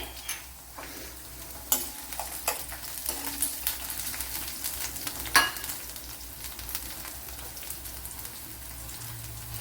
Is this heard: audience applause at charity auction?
no